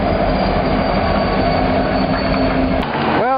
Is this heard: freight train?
yes